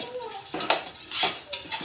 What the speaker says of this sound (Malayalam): അതിന് ഞാൻ ഇവിടെ അരി വറുത്തുകൊണ്ടിരിക്കുകയാണ്